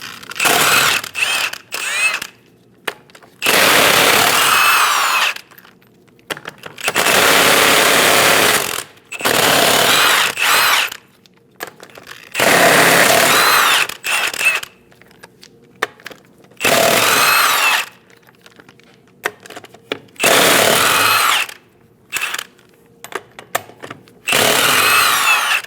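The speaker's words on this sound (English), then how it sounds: "Using a 22mm socket," Impact tool with a 22mm socket removing the rear wheel lug nuts on a 2001–2006 Chevrolet Silverado 2500 HD, loud rattling bursts of several seconds each separated by quiet gaps and short clicks, close up.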